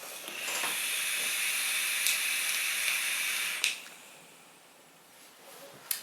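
Aura Mini electronic cigarette chain vaped, giving a steady, close breathy hiss of vapour for about three and a half seconds before it cuts off, followed by quieter hiss and small clicks at the end.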